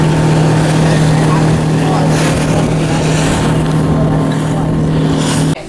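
Boat cruising in the Galapagos aboard the National Geographic Endeavour II, a loud, close, steady engine drone with rushing wind and water noise throughout.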